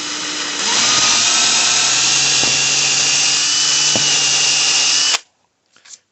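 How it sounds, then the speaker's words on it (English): A power drill whines loudly and steadily for about five seconds while drilling a hole for model railway wiring, then cuts off abruptly, followed by a few faint clicks. "Drill a hole through there."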